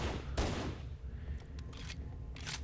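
A stationary mounted gun fires in Halo Anniversary, loud sharp shots and short bursts popping out at uneven intervals over a steady roar of battle noise.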